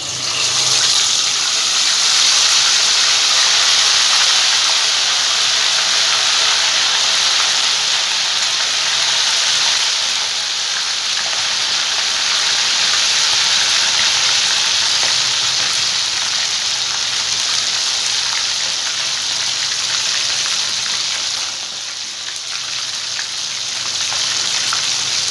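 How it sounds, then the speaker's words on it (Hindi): Tandoori chicken tikka sizzles steadily in a hot pan, a loud continuous hiss and crackle that keeps going without a break. "तो मैं फिर अभी इसे फ्राई करने लगी हूँ"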